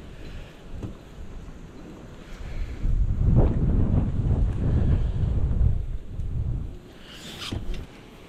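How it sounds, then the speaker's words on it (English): Heavy wind buffeting the microphone in rumbling gusts that swell and ease, with faint outdoor ambience on the Norfolk Broads and no speech. "it's very windy"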